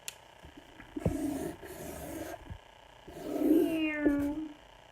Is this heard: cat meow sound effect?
yes